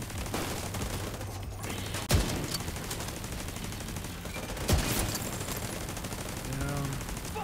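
Sustained turret gunfire in The Division 2 video game, a dense continuous rattle of automatic shots with a couple of sharper bursts standing out, playing loud throughout.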